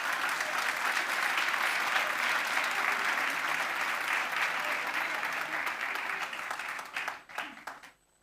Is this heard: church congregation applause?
yes